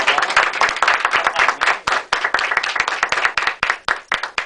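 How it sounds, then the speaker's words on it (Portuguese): A church congregation claps together in a close, loud burst of sharp individual hand claps, steady and slightly uneven in rhythm, continuing for several seconds without talk. "Vamos Senhor. aplaudir a palavra do Senhor?"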